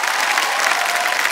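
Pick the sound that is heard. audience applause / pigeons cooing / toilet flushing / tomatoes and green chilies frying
audience applause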